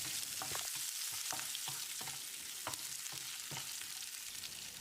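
Cumin, green chili and chopped curry leaves fry in hot oil in a pan, a steady close sizzle broken by repeated scraping strokes as they are stirred.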